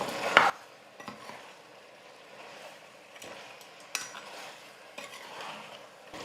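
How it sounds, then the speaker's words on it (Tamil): Mutton head meat sautéing in oil with spices, a steady low sizzle with occasional stirring scrapes and spatula knocks, close up and fairly quiet, with no voices. "எல்லாத்தையும் சேர்த்து நல்லா நம்ம வதக்கணும்"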